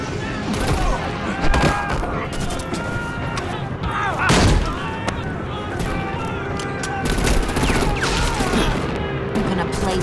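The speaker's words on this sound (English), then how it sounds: "Bullet fire!" Rapid bursts of gunfire and heavy impacts in the video game Batman: The Enemy Within, dense and loud over a busy soundtrack, with a sharp boom around the middle and a voice shouting in the mix.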